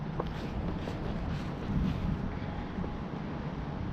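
Steady outdoor wind roars and buffets a microphone near residential heat pumps with spinning fans, a continuous broadband rush with no talking.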